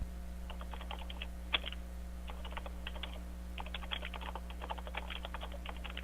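Rapid, uneven keystrokes clatter on a computer keyboard in bursts, close and clear, over a steady low electrical hum, with no voices.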